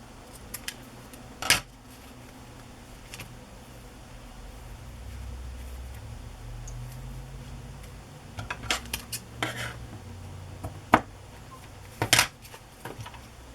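Scissors snip off a seam on a handmade journal cover in a few sharp, separate cuts, quiet and close over a soft, steady background hiss.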